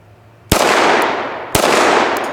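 Two sharp pistol shots of 5.7 ammunition fired at 2-liter bottles in cold weather, about a second apart, each a loud crack followed by a lingering outdoor echo.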